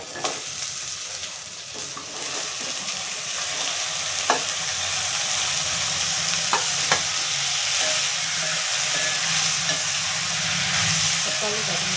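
Chopped tomatoes frying in oil for a drumstick gravy, a steady close sizzle with a few sharp clicks of a spoon or ladle stirring the pan, continuous and moderately loud.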